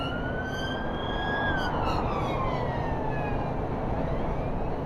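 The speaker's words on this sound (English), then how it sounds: "There's a police car behind you." Police car siren wailing steadily behind a motorcycle on a road lesson, its rising and falling tone loud and close against continuous traffic and engine rumble, with no talk.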